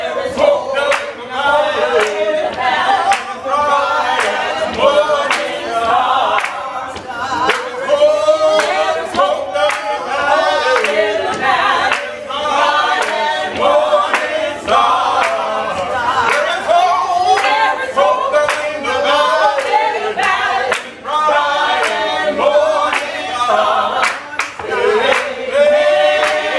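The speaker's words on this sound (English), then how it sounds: "the hand clap, the foot stomp, the shout, the ring shout, all that" Gullah ring shout worship with sharp, rhythmic hand claps and foot stomps driving steadily beneath group singing, loud and close, the percussive beats evenly spaced throughout.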